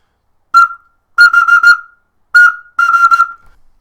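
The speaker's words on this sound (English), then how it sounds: "so kind of my whistle toy here, and this is what it sounds like" A Russian clay whistle toy blown in short loud shrill bursts, one single blast followed by a quick warbling run, then the same pattern again, close and alone against silence.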